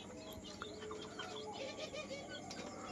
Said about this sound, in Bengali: এগুলো হচ্ছে আমার দেশি মুরগি।